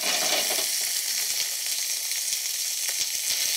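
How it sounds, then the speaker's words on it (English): Food frying in olive oil in a nonstick pan gives a loud, constant sizzle, with the soft scrape of stirring audible in short bursts throughout and no voices. "Now, I'm stirring this about."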